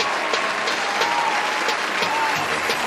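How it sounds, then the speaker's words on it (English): An audience breaks into applause, a dense, even wash of clapping held at a steady level for a few seconds, with a faint tone and murmur under it. "Let's give him a round of applause."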